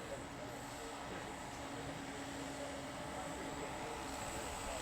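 A 1:4 scale Vario Bell 429 GlobalRanger RC model helicopter with twin turbine engines flies at a distance, giving a steady, even turbine whine with a constant high tone over a broad rushing drone.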